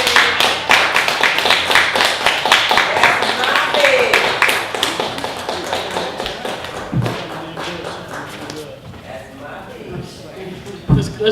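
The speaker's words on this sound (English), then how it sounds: "Let's give him another round of applause." Audience applause at a spoken word event, sustained clapping and tapping from a crowd that fades gradually toward the end, with voices murmuring underneath.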